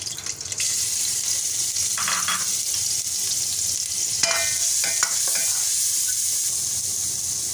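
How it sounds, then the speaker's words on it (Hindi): Chopped garlic sizzles in about two tablespoons of oil in a pot, a steady close frying hiss with brief stirring and clinking sounds, no voices. "लहसुन को हम करेंगे हल्का सा ब्राउन।"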